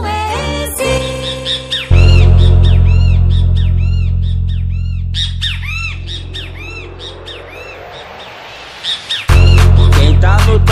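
Repeated great kiskadee (bem-te-vi) bird calls are chopped into a Brazilian funk remix, with loud bright squawking phrases riding over a heavy pounding bass beat that drops out briefly midway and then returns.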